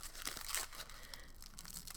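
Paper crinkling and tearing as a mystical meditation-themed subscription box is unwrapped, a close, steady rustle with sharper crackles near the start and no talk.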